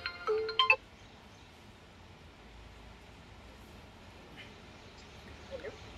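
A phone ringtone for an incoming customer call sounds briefly as a short melodic trill in a cab driving in Bangalore, then cuts off, leaving faint road and engine hum.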